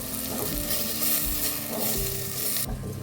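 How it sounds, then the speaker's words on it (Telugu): Brinjal pieces frying in oil with turmeric and salt, giving a continuous close sizzle with low stirring rumbles that drop off abruptly near the end. "వంకాయ ముక్కల్లో మెత్తగా అయ్యేంత వరకు బాగా ఫ్రై చేసుకోవాలి"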